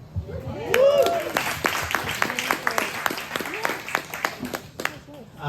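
Audience applause at a business talk, a close, scattered patter of hands clapping for several seconds, with a voice speaking over the start.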